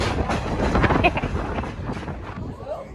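A Verde Canyon Railroad train rolls along the tracks with a continuous rumbling clatter and wind buffeting, while voices talk over the ride.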